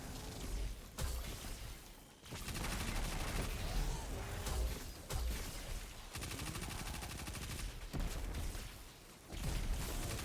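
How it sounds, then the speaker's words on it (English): Rapid anti-barrier SMG fire rattles through a Destiny 2 lost sector fight, loud and dense in several sustained bursts with short gaps, over layered in-game impacts and effects. "burn down his shield with your anti-barrier SMG as soon as he puts it up"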